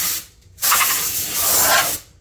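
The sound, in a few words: aerosol spray dusting a circuit board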